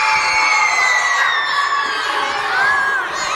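Children at a Boys & Girls Club gathering cheer, whoop and shout together in a loud, continuous crowd roar that swells and dips slightly throughout.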